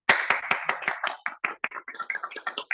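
An audience at a Toastmasters meeting claps in a lively burst of sharp, closely spaced handclaps, loud and near, continuing steadily without speech.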